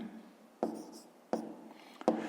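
Pen on paper writing out a fifth-grade math exercise: quiet scratching strokes broken by three sharp taps or stroke onsets, steady and close, with no talking.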